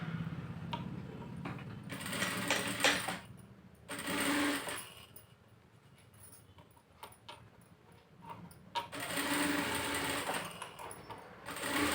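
A sewing machine stitches fabric while attaching a hook, running in fast mechanical bursts of whirring and clatter separated by quieter pauses, fairly close and with no talk.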